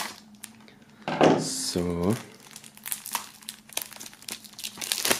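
Plastic wrap crinkles loudly around a CD album box set being opened, with a burst of crackling and tearing up close, then a short voiced exclamation and quieter rustling under a man's speech.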